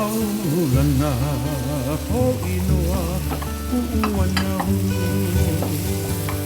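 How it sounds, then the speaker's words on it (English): Garlic fries in macadamia nut oil over high heat, letting it brown and scorch, with a continuous sizzle and stirring sounds beneath prominent background music. "Let them even burn a little bit. I'm waiting for that garlic to burn."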